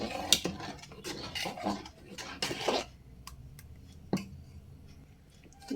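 A spoon stirs and scrapes through thick rice flour batter in a pot, making intermittent clinks and soft knocks against the metal, close and fairly quiet with short pauses between strokes.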